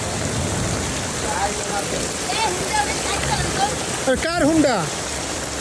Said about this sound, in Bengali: চরম বৃষ্টি।